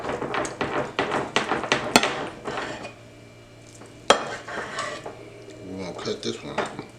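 Knife chopping through cooked Italian beef for a Chicago-style sandwich, a run of sharp knocks of blade on board with clattering dish noise, fast at first, then a pause and a loud single chop before more scattered cuts.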